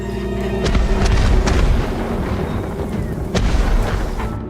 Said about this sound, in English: More fireworks! On all sides!